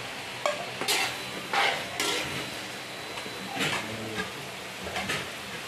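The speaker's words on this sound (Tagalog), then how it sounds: "Kaya lang muna natin matusta yung bagoong" Bagoong shrimp paste toasting in a pan, with a soft sizzle under repeated scraping and stirring strokes of a utensil against the metal, close and moderately quiet.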